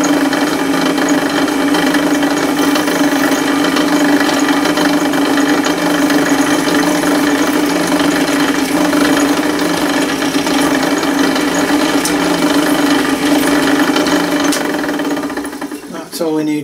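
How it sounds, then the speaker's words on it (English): A drill press running on metal while spotting hole markings for a Gauge 1 live steam scratch build gives a steady mid-pitched motor hum with a constant tone, loud and continuous throughout. "All I'm going to do now is just to spot through, just to get the markings for these holes to drill through on."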